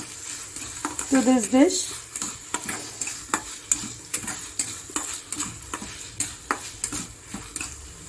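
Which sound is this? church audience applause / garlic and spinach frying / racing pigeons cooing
garlic and spinach frying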